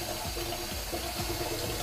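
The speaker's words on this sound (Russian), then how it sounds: "просто в емкость воды наберем и будем понемногу окунать" Fresh blueberries are gently dipped and rinsed in a container of standing water, giving close, soft sloshing and splashing with small repeated swirls.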